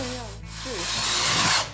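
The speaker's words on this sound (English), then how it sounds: "So we're drilling holes in the bottom of this container." Short burst of a power drill boring holes in the bottom of a container, its whining grind rising and holding for about a second right after a voice speaks briefly nearby.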